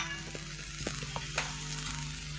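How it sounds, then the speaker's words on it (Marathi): Ginger-garlic paste goes into a pan with softened tomatoes for a Malvani-style sprouted matki bhaji. A steady, close sizzle with light stirring scrapes fills the moment without any voices. "लगेच त्याच्यामध्ये पाव चमचा आलं लसूण पेस्ट टाकू"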